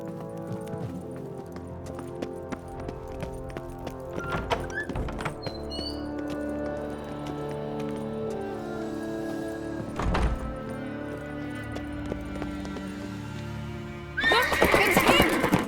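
Horses in The Witcher 3 whinny and stamp with clip-clopping hooves amid steady background game music, with a loud burst of movement near the end.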